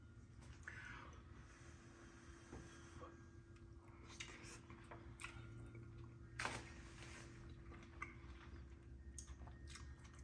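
A mouthful of shrimp with onion and mushroom being chewed up close, soft wet bites and faint clicks over a quiet, low background hum.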